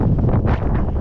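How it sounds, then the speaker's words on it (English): Steady wind buffeting the microphone outdoors while magnet fishing, a continuous low rumble with gusty swells and no voices. "It's a little windy out,"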